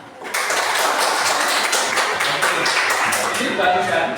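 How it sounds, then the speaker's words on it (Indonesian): A school class clapping hands during a coding and artificial intelligence lesson, a loud, dense burst of many claps that begins after a brief quiet moment and carries on steadily, with voices mixed in. "Mau tepuk tangan."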